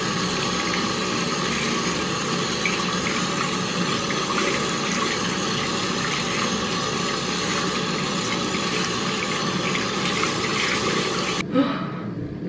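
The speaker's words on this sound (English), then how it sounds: "I'm gonna try and wash this out in the sink." Water runs steadily from a sink tap while hair dye is rinsed out, a loud, even gushing rush close by that goes on without a break and then suddenly stops near the end, with no talking.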